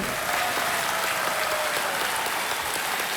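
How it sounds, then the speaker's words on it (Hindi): A television game show studio audience bursts into full, dense applause for a contestant, a steady roar of clapping throughout the short span. "तालियों के साथ इनका अभिनंदन।"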